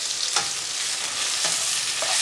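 Mushrooms sizzle in hot oil for chop suey, a bright steady frying hiss close up, broken by a few short utensil scrapes and knocks as they are tossed.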